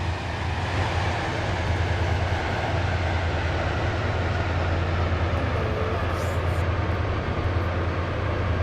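Train in the Roblox game Stepford County Railway, a steady loud rumble of a running train with constant low drone and no break, heard from on board.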